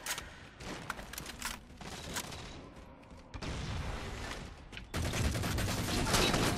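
Gunfire and explosions in the Halo video game, loud, dense bursts of shots and booms in several sections separated by brief lulls, with no clear talk.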